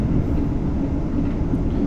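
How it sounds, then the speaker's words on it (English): Intermodal freight train passing in a train simulator game, heard from a GWR Class 802 on a busy route toward Paddington, giving a continuous loud rumbling roar of wagons that lasts the whole moment. "Overtaking an FKA intermodal train."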